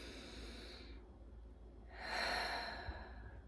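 Slow, deep breaths drawn in calm quiet: a long hushed exhale fades out, then a fuller, louder inhale swells and trails off, close and alone without talk.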